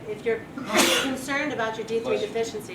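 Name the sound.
sneeze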